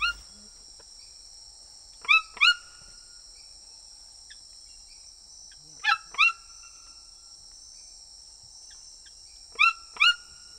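A pet toucan gives paired, sharp croaking calls in three bursts spaced a few seconds apart, loud and close, over a steady high insect drone in a quiet tropical village setting.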